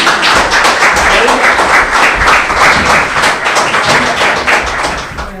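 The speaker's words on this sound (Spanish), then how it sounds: "Un aplauso." An audience at a women-in-engineering talk event applauds a speaker being introduced, with dense, steady clapping filling the room for the full stretch and tapering slightly at the end.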